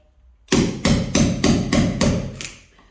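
A hammer drives a chisel into a floorboard to notch it, six sharp evenly spaced blows ringing out close and loud, the last one softer, with no voices.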